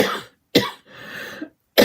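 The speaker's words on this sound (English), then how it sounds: "my morning little coughing fit." A woman coughs in a short fit: three harsh bursts separated by brief gaps, with a longer, rougher throat-clearing cough in the middle, close and fairly loud.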